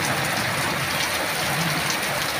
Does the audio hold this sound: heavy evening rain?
yes